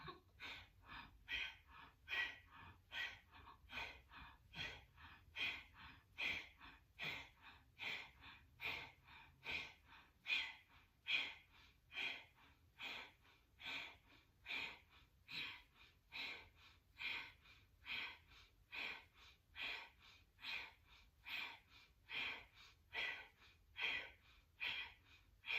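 Slow, deep breathing during a kundalini exercise, a long steady rhythm of about thirty soft inhales and exhales at an even pace, close and alone with no talk.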